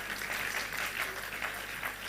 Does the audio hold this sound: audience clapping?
yes